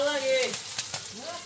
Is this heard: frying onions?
yes